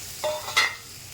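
Green chillies drop into a pan of frying onion and garlic, giving two quick, close sizzling hisses over a low background.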